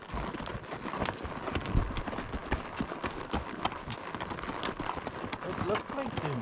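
Horses, including a colt, running off across open range land, a steady patter of hoofbeats under continuous outdoor noise with talk mixed in.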